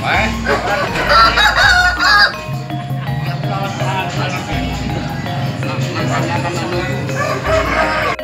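Broiler roosters crow loudly up close while broiler chickens cluck and squawk around them, with background chatter from a busy livestock market in Sumpiuh, Banyumas.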